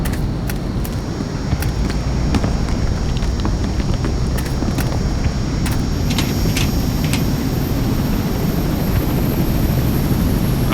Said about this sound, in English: Helicopter is back